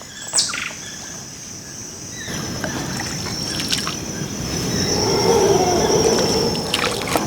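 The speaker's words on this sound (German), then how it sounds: "In einem Kanu mit Barbara paddeln wir Richtung Nationalpark" Paddling a canoe on a quiet river sends soft, rhythmic splashes and trickles close by, while birds chirp and call around it and no one speaks.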